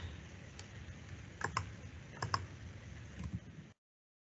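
Typing on a computer keyboard: faint, uneven clicks of keys with a few sharper taps, over a low background hum that cuts off abruptly.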